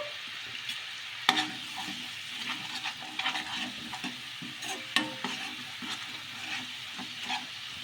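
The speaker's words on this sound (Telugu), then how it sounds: "ఇలా కొంచెం మ్యాగీ మసాలా వేసుకొని ఒకసారి మళ్ళీ కలిపేసుకుందాము" A spoon stirs and scrapes through a pan mixture just seasoned with Maggi masala, made for oil-free vadas. Irregular close clinks and scrapes repeat over a soft, steady sizzle, with no voices.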